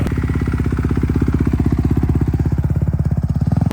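A clutch motorcycle rides on a track, its engine a loud, steady, rapid pulsing chug that holds close and constant throughout without any voices.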